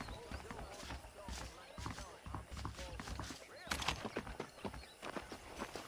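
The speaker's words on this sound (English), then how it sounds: "The horses are saddled up over here." Saddled horses in the Red Dead Redemption game clip-clop along in an uneven walking rhythm of hooves on ground, with a faint whinny and a voice talking over the steps.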